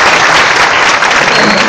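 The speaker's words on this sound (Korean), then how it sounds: "네, 박수가." Loud, dense applause from a student audience at a school gathering, a brief burst of many hands clapping together close by, with no talking over it.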